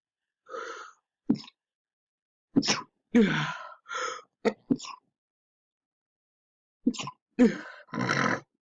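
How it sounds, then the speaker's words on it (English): Repeated sneezes from someone with allergies, several sharp bursts in two clusters separated by a pause, close and fairly loud, with no talking. "I do have allergies, so sorry if I keep sneezing"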